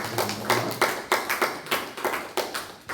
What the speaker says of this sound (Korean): 우리 다시 한 번 더 격려의 박수를 해주시기 바랍니다.